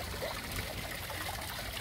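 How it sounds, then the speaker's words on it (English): A backyard pond waterfall trickles and splashes steadily, a close, continuous wash of falling water with no voices. "And then that's my waterfall."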